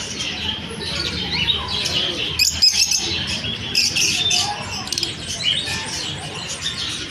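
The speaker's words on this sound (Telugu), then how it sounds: "పావురాలు కాదు ఇవి, చిలకలు. చిలకలు చిలకలు చిలక జాతి." Many colorful parrots at an animal exhibition in Bangalore chirp and squawk continuously, a dense, busy chorus of sharp calls close by with steady background crowd noise.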